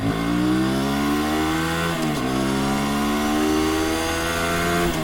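A high-revving Aprilia RS 457 sport motorcycle engine held at a steady whine, briefly blipping down and climbing again, loud and close.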